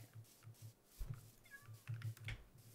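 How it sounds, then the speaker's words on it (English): Cats meowing in the Minecraft video game, a few short, faint game-animal meows scattered over a quiet, low background hum. "I hear a weird noise. I'm in bed with my eight cats."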